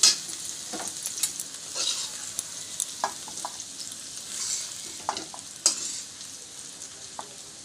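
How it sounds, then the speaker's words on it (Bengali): Capsicum fries in a hot wok with a bright, hissing sizzle, broken by scattered spatula scrapes and clinks in a close, steady rhythm. "ক্যাপসিকামটা আমি সুন্দর করে ভেজে নিচ্ছি"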